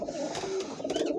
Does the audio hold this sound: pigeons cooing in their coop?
yes